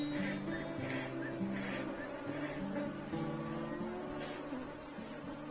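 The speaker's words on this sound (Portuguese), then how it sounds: "Então aqui vai vir muita abelha na câmera," Swarms of Africanized honeybees buzz around an open hive during a colony split, a dense continuous drone with individual bees passing close to the microphone.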